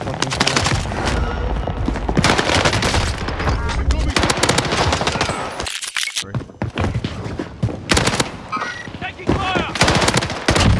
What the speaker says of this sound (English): just sniped him from far away